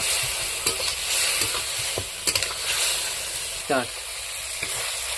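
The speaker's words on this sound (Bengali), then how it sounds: "এবারে ভালো করে মশলাটি কষে নেব।" Turmeric spice masala with a little water fries for ghugni, giving a loud steady sizzle and hiss with occasional scraping clinks of a stirring spoon and faint voice sounds.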